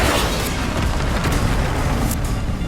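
Spell explosions during combat in Hogwarts Legacy, a loud, dense roar of blasts and rumbling booms that continues without a break, with no voices.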